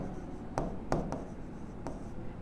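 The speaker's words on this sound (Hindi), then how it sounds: "जैसे यहाँ लिखते हैं" A few short scratchy strokes of writing on a board during a chemistry lesson, soft and close, four quick marks over a quiet room hum with no talking.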